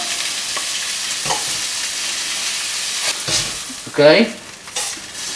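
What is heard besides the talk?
meat frying in lard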